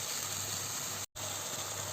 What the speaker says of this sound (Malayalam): ഇതൊന്ന് നന്നായിട്ട് തിളക്കട്ടെ